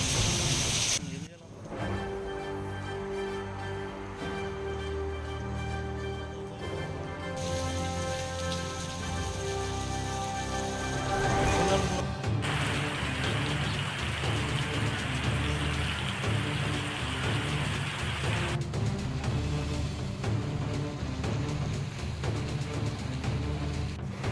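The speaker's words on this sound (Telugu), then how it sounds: "భారీ వర్షం కురుస్తుంది" Dense, continuous hiss of heavy rain pouring down in Makthal, Telangana, with a droning background and abrupt shifts in tone partway through.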